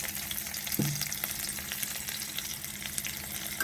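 Steady oil sizzle of ivy gourd (kunduri) frying with cumin, mustard seeds, onion and green chilies in a hot pan, a continuous close crackle with a brief clink of a utensil near the start.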